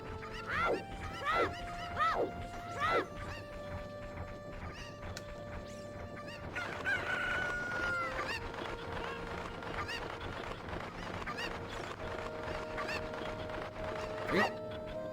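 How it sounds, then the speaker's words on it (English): Cuccos in the Ocarina of Time video game cluck and squawk in a few sharp, rising calls, followed by a longer crowing cry amid game ambience and footsteps, moderately near. "I'm still missing some cuckoos. Please round up 5 more."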